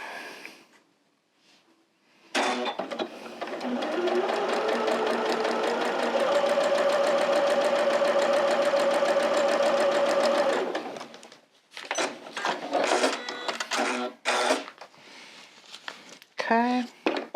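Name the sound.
sewing machine stitching Tula Pink fabric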